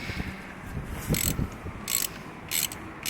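A tool grips and works a spark plug loose from a Mazda 323f engine, giving close, quiet ratcheting clicks and metallic scraping in short uneven bursts.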